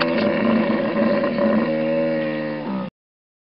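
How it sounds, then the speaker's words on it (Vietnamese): A hippopotamus gives one long, deep, sustained bellowing call lasting nearly three seconds, loud and close, with no other sounds around it. "Con hà mã."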